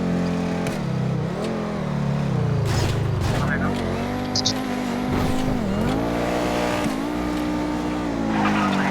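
Fast car driving with tires skidding, a loud revving engine whose pitch rises and falls through gear changes and turns, with squealing tires throughout and occasional voices under the motor.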